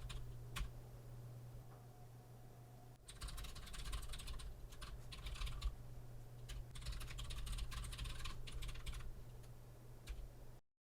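Package names are typed on a computer keyboard in two dense runs of quick clicking, close and fairly soft over a steady low hum, with no one speaking.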